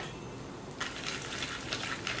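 Peanuts and roasted chickpeas sizzling in hot oil with asafoetida and turmeric for khakhra chevdo, a steady close frying hiss with a few brighter crackles and stirring, no talk.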